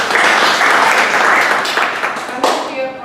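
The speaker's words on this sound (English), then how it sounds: "give a big round of applause to our target" Audience applause at a Toastmasters annual club contest, a loud crowd of clapping hands that swells and fades over a few seconds, with a voice breaking through briefly near the end.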